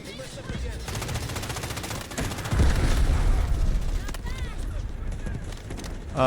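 K416 rifle fire in the video game Delta Force: sustained rapid bursts of gunshots, fairly loud and close, with a heavier stretch midway, amid game noise and a voice.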